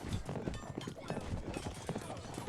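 Horse hooves clip-clopping in a busy fantasy battle in the video game Warlord, with cavalry units charging Black Orcs; the hoofbeats are dense and continuous, mixed with battle noise and faint voices.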